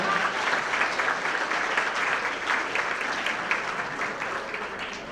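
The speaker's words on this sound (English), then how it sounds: "please help me in giving your parents and loved ones a round of applause" Sustained applause from a large audience, loud and continuous, steady throughout with no pauses.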